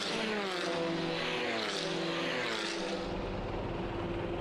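TCR touring race cars racing at the Salzburg Ring, a loud continuous engine roar with rising and falling pitch as cars pass close by.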